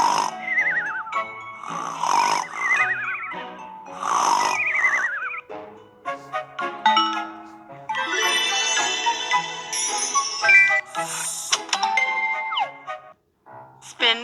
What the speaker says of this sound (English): They started snoring too.